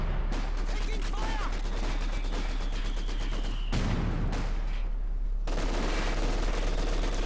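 Vickers and MG42 machine guns fire in Company of Heroes 2 as rapid, overlapping bursts of clattering shots in a busy battle mix, with a voice talking over the fire.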